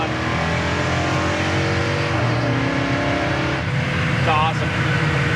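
A 1973 Chevrolet Nova with a small-block V8 revs hard and shifts gears around 4,000 RPM, its loud engine note rising and dropping at each shift, heard from inside the car.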